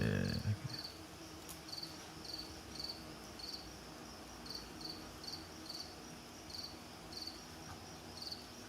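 Crickets chirp at night as a sound effect, quiet regular bursts of high trills repeating about every half second over a low, steady background.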